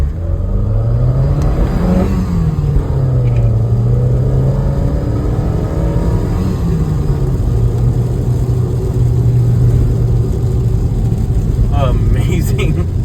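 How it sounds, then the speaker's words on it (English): A 1989 Saab 9000 Turbo Carlsson accelerates with its turbo spooling, a loud close engine drone rising and falling in pitch with gear changes, heard from inside with speech at points. "I heard that turbo spool as well."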